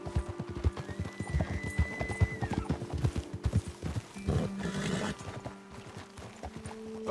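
Horses in Red Dead Redemption 2 clip-clop along at a steady rhythmic gait, the hoofbeats close and prominent, with a brief whinny-like tone and some ambient outdoor sound, no talking.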